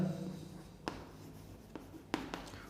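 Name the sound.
writing on a board during a maths lesson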